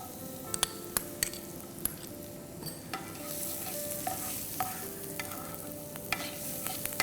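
Chopped onions and garlic sauté in a pan for a broccoli bake, a soft continuous sizzle punctuated by sharp clicks and light clinks of a spoon against the pan at irregular intervals; no speech.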